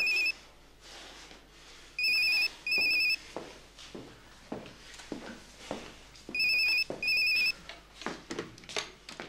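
An indoor telephone ringing in repeated pairs of bright electronic trills, two bursts, a pause, then two more, with clattering movement and household noise around it.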